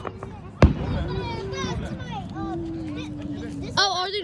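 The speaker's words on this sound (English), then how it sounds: "That firework splits up into different tiny pieces and starts big." Fourth of July fireworks burst overhead with one sharp, loud bang followed by softer crackling and distant pops, while excited voices and a crowd chatter throughout.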